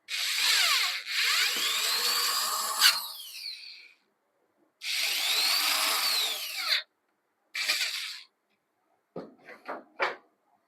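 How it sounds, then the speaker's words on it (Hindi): A power driver tightens the motor screw on the grill of a homemade battery fan, whirring in two long bursts and then several shorter ones, close and loud with silent gaps between. "तो फिर इस स्क्रू को भी हम अच्छे से टाइट कर देंगे।"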